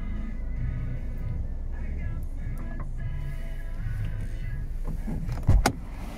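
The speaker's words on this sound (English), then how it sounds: "She also has the power folding wing mirrors." Power folding wing mirrors on a Toyota Verso Icon 1.6 D-4D give a short, close motor whirr near the end, set against a low, steady cabin hum.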